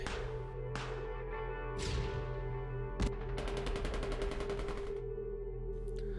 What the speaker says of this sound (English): I heard the deafening sound of explosions and gunshots from outside.